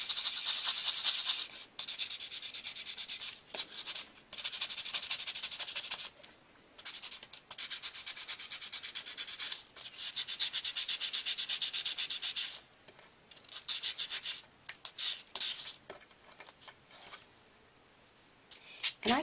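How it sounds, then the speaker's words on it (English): Rhythmic sanding of etched Vintaj metal with a reliefing block, a close, bright scratchy rubbing in repeated strokes separated by short pauses, with no other sound competing. "I'm going to bring in my reliefing block and sand that and show you how cool that is"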